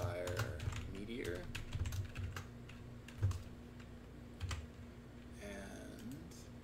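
Code being typed on a computer keyboard during Unity VR development for Oculus, quick irregular bursts of soft key clicks with short pauses, close and fairly quiet, with someone talking over parts of it.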